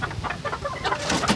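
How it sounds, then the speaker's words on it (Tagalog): Chickens being fed cluck in short, close, uneven bursts, with soft scratchy noise around them. "magsisimula na ang challenge ko na magpakain ng manok"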